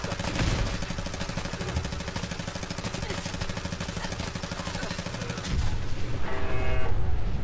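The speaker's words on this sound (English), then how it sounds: "I think that might have been my turrets firing" Turrets in Fallout 4 fire gunshots as a dense rapid automatic stream, loud and continuous for about five seconds, then give way to a rumbling engine-like drone, with no talking.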